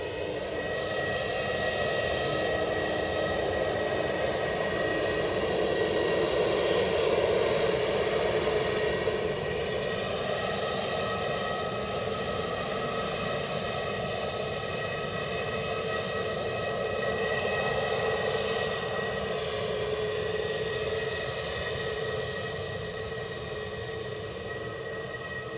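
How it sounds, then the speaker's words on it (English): An Air Canada airliner departing from Edinburgh Airport, a steady loud engine roar with a whining high tone that holds evenly across the whole stretch, slowly shifting in pitch as it moves off. "So once this Air Canada departs"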